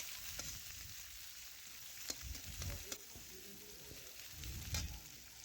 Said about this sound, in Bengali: একটু ভেজে নিচ্ছি। তো দিলাম একটা বড় সাইজ পেঁয়াজ কুচি করে রেখেছিলাম, সেটা দিয়ে দিলাম।